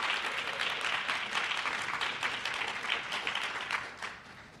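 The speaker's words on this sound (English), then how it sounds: "give a thunderous round of applause for yourselves" A community plan launch audience claps and applauds, a dense, even patter of many hands throughout that slowly thins and fades toward the end.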